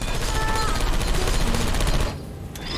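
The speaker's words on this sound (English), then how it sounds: "I heard gunfire!" Rapid bursts of video game gunfire in Portal 2 crackle loudly over a dense, busy background, then cut off abruptly near the end.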